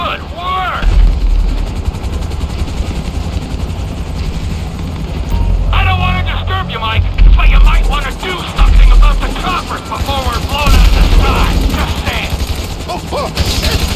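Helicopter rotors drone loudly in a Grand Theft Auto firefight, with bursts of rapid machine-gun fire and scattered gunshots cutting through, while game characters speak over the din.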